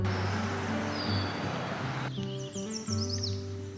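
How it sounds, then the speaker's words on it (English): Birds chirping and tweeting by a lake near a forest, small scattered calls over a steady low hum of outdoor ambience, fairly faint. "You can hear the birds."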